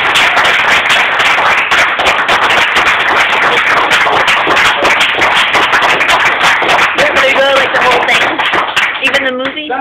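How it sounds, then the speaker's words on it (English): A large audience at an Oklahoma City talk welcoming a speaker claps loudly and steadily, a dense, continuous wash of hand claps that fills the whole stretch before a speaking voice emerges near the end. "That was a rousing applause."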